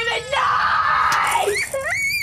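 A young child screams in a tense domestic scene, a long sustained high-pitched wail that breaks into shorter rising cries, loud and close, with no other sounds over it.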